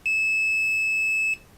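Probing vias on a drop-damaged motherboard, a multimeter in continuity mode sounds a single sustained high-pitched tone of just over a second, crisp and close against near silence.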